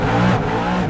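Ford Mustang engine in a sim racing game revving hard in neutral, a loud continuous engine roar filling a brief moment, alone with no talk.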